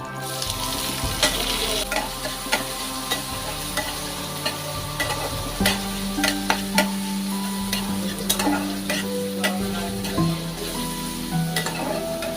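Chopped onions frying in oil for a taro and hilsa fish head dish, with a loud continuous sizzle and repeated spatula scrapes and knocks against the pan, steady throughout.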